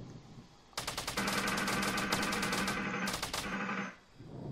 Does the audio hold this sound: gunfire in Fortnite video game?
yes